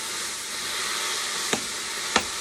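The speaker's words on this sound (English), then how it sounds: "you want to give that a wee stir" Greek beef stew browning in a pot, a steady soft sizzle and hiss with two quick scraping knocks of a spoon being stirred near the end, close with no talking.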